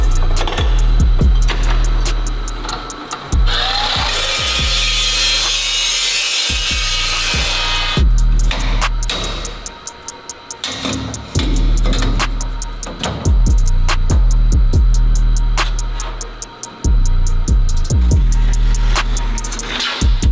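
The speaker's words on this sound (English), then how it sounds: "So back to the chop saw." Chop saw cutting steel tubing in a workshop: a harsh, loud grinding burst of a few seconds, framed by rapid clicks, knocks and handling clatter of the saw and metal, up close with no talking.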